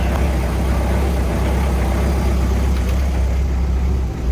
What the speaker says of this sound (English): The old Daihatsu lump started up.